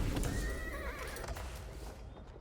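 Horses neigh and hooves clip-clop in Age of Empires 4, a whinny rising and wavering through a dense battle bed of continuous game noise, with no talk over it.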